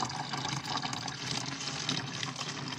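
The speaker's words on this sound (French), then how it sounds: "je vais simplement mettre de l'eau" Water being poured into a container, a steady close splashing gush lasting a few seconds with no talk.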